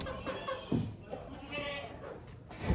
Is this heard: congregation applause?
no